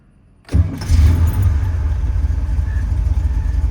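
A 1966 Chevrolet Corvette Sting Ray coupe with the L79 327 V8 cranks briefly and fires, then settles into a loud, close, lumpy idle with a deep rumble that continues steadily.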